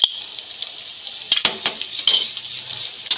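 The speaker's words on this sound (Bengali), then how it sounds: "আদাটা দিয়ে একটুখানি ভেজে নেব।" Ginger paste fries in a pan for an egg and lentil curry. A soft, steady sizzle runs beneath sharp, scattered clinks of a metal spoon scraping and stirring, heard close up.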